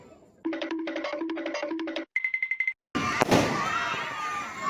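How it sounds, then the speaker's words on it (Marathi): A Diwali firecracker lit by the chief guest at an ashram school's lamp festival goes off in one sharp bang, followed by continuous crackling and hiss. A stretch of tonal, beeping sounds comes before it. "पाहुण्यांच्या हस्तेचा फटाका फुटत आहे"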